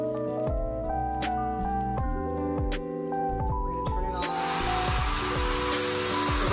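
A Webeauty Wechip 5-in-1 hair dryer on its cool shot setting starts a steady, breathy airflow rush partway through, over tonal background music that plays throughout.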